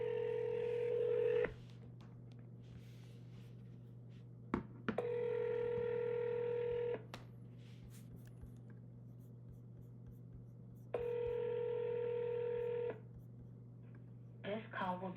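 An outgoing telephone call on speakerphone rings out as a steady electronic ringback tone, three long bursts separated by quiet gaps over a constant low hum.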